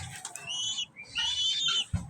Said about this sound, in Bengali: দেখেন কি সুন্দর কবুতর।